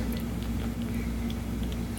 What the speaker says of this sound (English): He's making suckling noises.